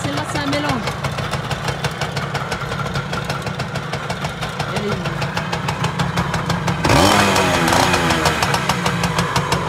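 A Yamaha PW 80 children's motorcycle engine runs steadily, with a rapid two-stroke putter that rises as it is revved near the end. People talk over it.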